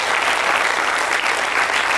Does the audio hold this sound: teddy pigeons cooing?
no